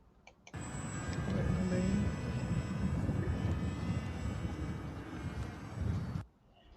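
RC model airplane flying, its engine a steady sustained drone with some wind noise, holding at a fairly constant loudness for about six seconds before cutting off abruptly.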